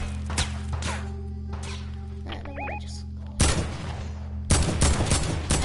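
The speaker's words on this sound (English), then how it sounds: "Oh, I'm getting shot at." Rapid gunfire bursts in Fortnite, with sharp cracking shots early, a couple of short tonal game sounds midway, then two loud dense volleys near the end.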